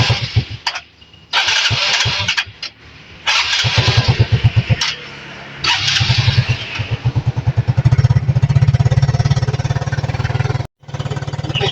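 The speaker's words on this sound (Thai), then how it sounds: "แล้วทำการบีบเบรกนะครับ แล้วก็สตาร์ท" A Yamaha Fino scooter engine cranks and catches a few times, then settles into a loud, steady idle with a rapid, chugging pulse close by.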